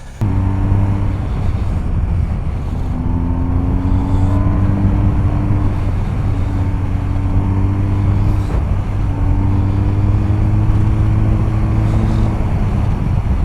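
A BMW R1250 GS motorcycle engine drones loud and close at speed while riding, a steady humming roar with slight pitch rises and dips mixed with wind rush, no talk throughout.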